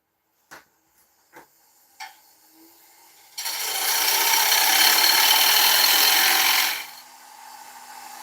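Woodturning lathe tool cutting a tenon on the base of an oak bowl, a few light taps, then a loud, steady rasping cut lasting about three seconds before it eases off to a low hum.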